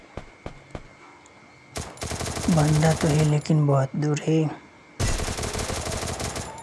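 Gunfire in the video game Garena Free Fire (Clash Squad, Kalahari map) crackles in sharp shots and rapid bursts while someone talks over it.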